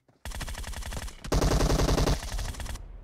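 Rapid automatic gunfire in PUBG Mobile, two loud sustained bursts of fast, evenly spaced shots, close and heavy, separated by a brief gap and trailing off at the end.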